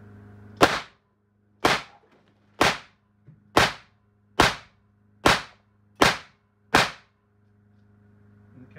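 Eight sharp, loud shots from an AEA BinTac S45 .357 air rifle fired into a cinder block, each a crisp crack with a short decay, spaced about a second apart against a steady low hum, with no talking.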